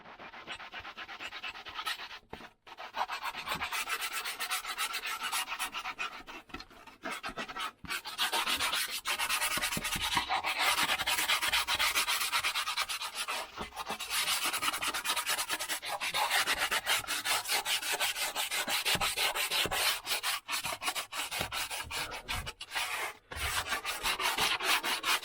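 Hand sanding during electrical work, a continuous close rasping scrub that runs almost unbroken, with a few brief pauses and a short stop near the start.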